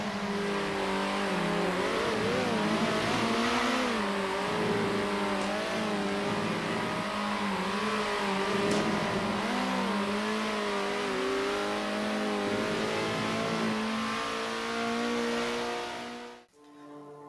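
Race cars in the top-down racing game Circuit Superstars scream along in a sustained engine note that rises and falls through gear changes, with tire noise and several engines layered close together, cutting off abruptly near the end.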